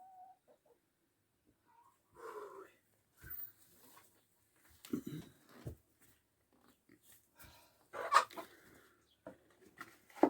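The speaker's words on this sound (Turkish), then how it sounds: "Bizim tavukla da yumurtlamaya geliyorlar sabırlar" Hens cluck and murmur in scattered bursts close by at a village farm where they lay eggs, with quiet gaps between and some rustling and handling noises.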